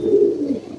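A pigeon gives a single low, throaty coo, close and fairly loud, lasting under a second with a soft rolling tone and no voices over it.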